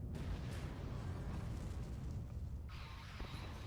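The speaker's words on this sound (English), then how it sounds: "Galacticmon explodes in a blaze of glory" A massive explosion from the Digimon World 2003 video game as the boss Galacticmon blows up, a dense, sustained roaring boom that fills the whole stretch with rumbling debris and crackle, easing slightly near the end.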